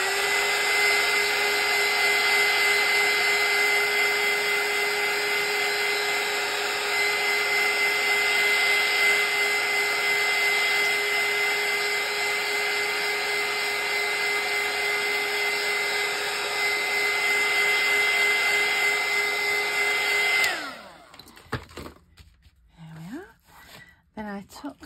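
A hair dryer blows steadily for about twenty seconds over decoupaged tea bag paper on a plastic bag, a loud constant whine that cuts off abruptly, followed by faint handling noises.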